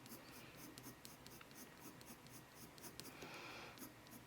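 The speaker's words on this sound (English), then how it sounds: "So I do a couple of strokes like this and then rotate the pencil so that you have the sharpest" Colour pencil strokes on paper while drawing a mouse, a quiet, rapid scratchy hatching with brief repeated strokes close to the microphone.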